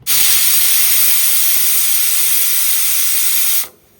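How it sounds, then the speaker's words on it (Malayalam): A pressure cooker holding pumpkin, lentils and green chilli lets out a loud, continuous steam hiss for several seconds before cutting off abruptly, with no voices. "കുക്കറിൽ മത്തങ്ങായും പരിപ്പും പച്ചമുളകും കൂടെ ചീറ്റാൻ വെച്ചത് ചീറ്റുന്നു"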